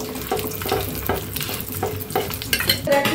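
Beef pieces frying and being stirred in a pan over a low gas flame, a steady close sizzle broken by repeated scraping stirs, with no talking.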